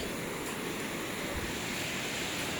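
Sea waves washing onto a beach, a continuous broadband roar of surf mixed with wind noise on the microphone, steady and fairly near, with no voices.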